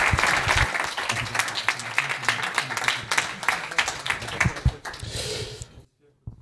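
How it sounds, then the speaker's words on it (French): A small audience claps for illustrators in a loose, uneven burst of individual hand claps, close and fairly loud, thinning out and stopping abruptly near the end, with voices mixed in. "Applaudissons les illustrateurs."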